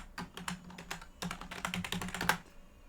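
Fingers type a password on a computer keyboard, a quick irregular run of close, crisp key clicks with brief pauses between clusters.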